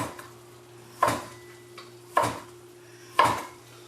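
Three evenly spaced slices of a knife cutting down through salami onto a wooden board for homemade pizza, each a crisp close knock with a short scrape, set against a faint steady background hum.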